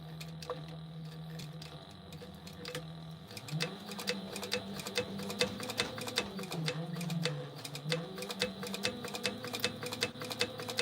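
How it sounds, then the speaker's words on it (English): A sewing machine top-stitches and stay-stitches a fabric pouch, a rapid, even rattle of needle strokes over a humming motor that slows and speeds up slightly, running steadily without any talking. "we're actually going to top stitch and stay stitch the whole thing"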